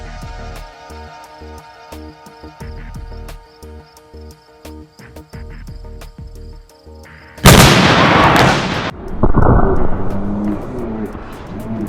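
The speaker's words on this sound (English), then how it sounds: "we're gonna just show Ahin exploding a pumpkin" A pumpkin rigged with an exploding target blows apart outdoors in one sudden, loud, broadband blast that tails off into rumbling debris and echo, then a second burst of noise follows, after a stretch of quieter background hum.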